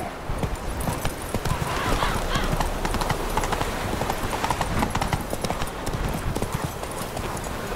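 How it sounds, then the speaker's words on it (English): A horse's hooves clop in a rapid, continuous rhythm in The Witcher 3 video game, loud and close, with a whinny rising partway through and a voice briefly heard over the gait. "Whoa there, Roach. To think the nag would know me after all these years."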